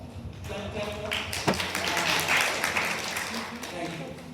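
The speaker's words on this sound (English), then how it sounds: "Clap for yourself." Students clap for themselves in a room, producing a moderate, steady patter of hand claps mixed with voices talking over it.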